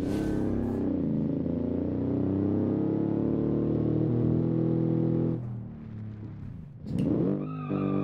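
A car in the driving game BeamNG brakes and skids, with a loud sustained engine drone and tyre scrub running for several seconds before cutting off, then a brief rising rev and squeal near the end.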